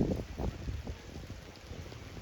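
Rain falls outdoors on a hillside, a steady soft patter with low rumbling wind noise against the microphone, fairly faint and continuous with no talking.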